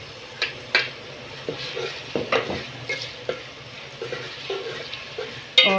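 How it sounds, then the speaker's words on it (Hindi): Tomatoes frying in a pan with ginger and garlic: a soft sizzle under scattered clicks and scrapes from stirring, at an uneven rhythm. "अब इसके अंदर जो है मैं टमाटर ऐड कर रही हूँ।"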